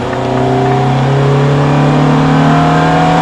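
A Ferrari F430 F1 with a 490-horsepower engine pulling at full throttle on a track, its loud, steady, high-pitched engine note climbing smoothly in pitch, heard close with no talking.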